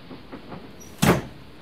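A door slams shut with a single loud, sharp bang after a few faint soft knocks and shuffles, with no talking.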